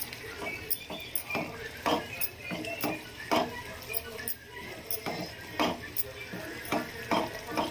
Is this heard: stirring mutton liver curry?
yes